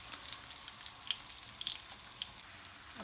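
Slices of vegan spam fry in a pan, giving a soft, constant close sizzle with scattered small pops and crackles, and no talking.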